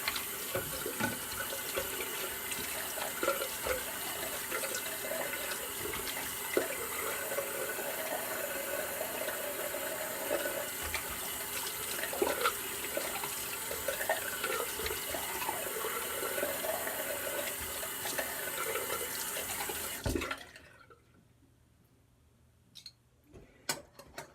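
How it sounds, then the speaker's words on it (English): A running tap pours steadily into a sink while shaving soap is rinsed off the face, constant close splashing for about twenty seconds before the water cuts off, leaving faint ticks. "So quick rinse off."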